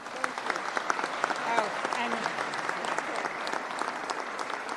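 A crowd at a governor's budget-signing ceremony applauds steadily, dense clapping at moderate distance with a few voices audible underneath.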